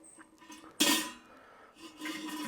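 Metal cooking grate spun on a charcoal smoker, a short metallic clank and scrape followed by a softer rattling rub, close but moderately quiet.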